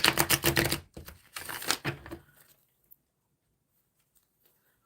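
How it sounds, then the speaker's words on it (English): Tarot cards shuffled briskly by hand, a dense papery riffling that runs for about two seconds, close and fairly loud, then stops into near silence. "giving it a good shuffle"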